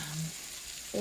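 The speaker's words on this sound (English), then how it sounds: "That sound is" Faint crackling sizzle of butter bubbling in a hot pan, a soft steady hiss with brief hums of a voice at either end.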